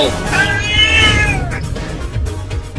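An animated cat meows in a cartoon comedy, drawn-out wavering cries that rise and fall across a couple of seconds, loud and close over a busy music and effects bed.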